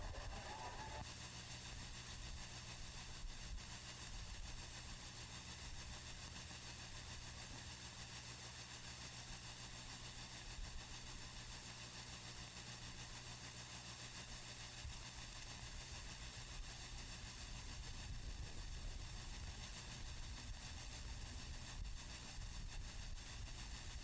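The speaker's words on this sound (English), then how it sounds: "Our secondary ambulance has arrived" A secondary ambulance idles at a dirt race track during a weekly racing series night, giving a constant, even rumble with a broad hiss, steady and unbroken for the whole stretch, with no talk.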